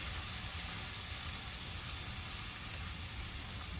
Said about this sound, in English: I'm going to let that saute, translucent.